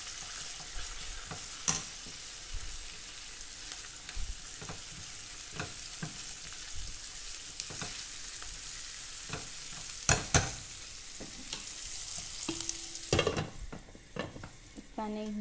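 Onions sizzle and fry in a pan under a steady crackling hiss, punctuated by scraping, clattering stirs and utensil knocks against the pan, with no voices.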